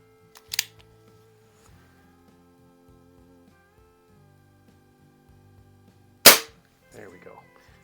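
A Crosman Fortify air rifle fires silver BBs through a chronograph: two sharp, loud cracks several seconds apart, with quiet hum between them.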